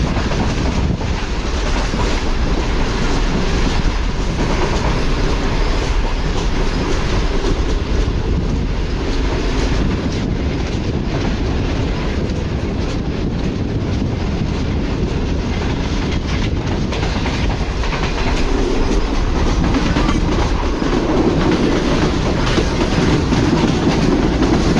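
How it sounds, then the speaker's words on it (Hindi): A Tezgam passenger train pulls out of a junction, its rumble and steady clickety-clack on the rails continuous and loud throughout from inside the carriage. "कुदरा जंक्शन से निकल रही है ट्रेन हमारी इस वक्त।"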